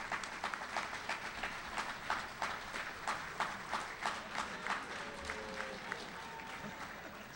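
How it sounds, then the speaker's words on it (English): A graduation ceremony audience applauding CMI staff, a sustained round of clapping from a sizable crowd in a hall, steady and moderately distant throughout. "Please give them a warm round of applause."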